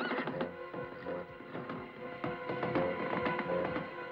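A cartoon horse whinnies amid a busy, cluttered mix of effects and music, the neighing moderately loud and jumbled with clattering sounds.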